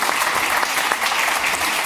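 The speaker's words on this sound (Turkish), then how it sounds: "Damla'yı da bir alkış alalım" A studio audience on a Turkish Survivor panorama show claps steadily throughout, dense, continuous and close, with no voices over it.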